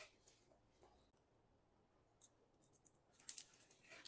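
Scissors cutting damp hair during a men's leaf cut, faint close snips that start sparse and then come in a quick series near the end, over near silence.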